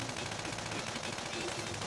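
Rapid automatic gunfire from an attack in the video game Persona 5 Royal rattles continuously and densely for the whole moment, loud and unbroken.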